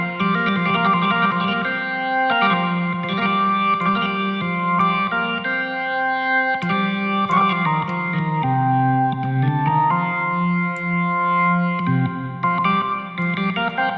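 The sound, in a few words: ToneStack organ through plate reverb with less damping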